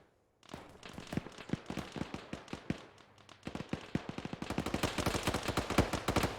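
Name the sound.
gunfire in Arma 3 video game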